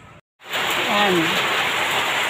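Rain falling steadily outdoors in the Philippines during a thunderstorm, a continuous hiss that starts after a brief gap, with a faint voice murmuring beneath.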